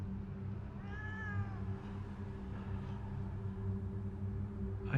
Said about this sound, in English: I hear a meow.